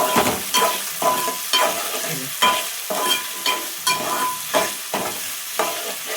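Thinly sliced unpeeled potatoes fry in a pan for upma, a steady close sizzle broken by regular scraping stirs roughly every half second, with no voices.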